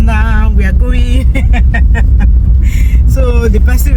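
A car drives along the road, heard from inside the cabin as a steady low engine and road rumble beneath continuous loud, close talking from the occupants.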